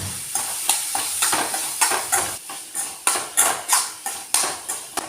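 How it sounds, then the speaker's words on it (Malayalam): A spoon scrapes and clatters rhythmically in a pan as chopped raw mango is stirred with turmeric and chili powder, roughly a dozen close stirring strokes over a light sizzle. "കുറച്ച് മഞ്ഞൾപ്പൊടി കുറച്ച് മുളക് പൊടിയും ചേർത്തിട്ടൊന്ന് നല്ലോണം ഇളക്കി കൊടുക്കാം"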